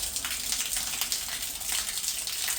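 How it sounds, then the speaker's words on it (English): Water pours and splashes steadily in a continuous, close rush, like a small waterfall running outside a partly built house that is being framed, with no break. "This is a very soothing waterfall."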